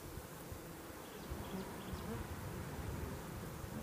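Honeybees bearding and washboarding on the outside of an Apimaye hive make a steady, soft buzzing hum that carries on without a break, with a faint rise in the second half.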